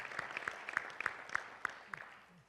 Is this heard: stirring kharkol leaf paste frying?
no